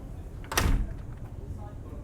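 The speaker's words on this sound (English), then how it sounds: "We're going to close this door behind us." A large glass door closes on the main salon of a Princess X95 superyacht, giving one short, fairly loud swish and thud against a quiet background.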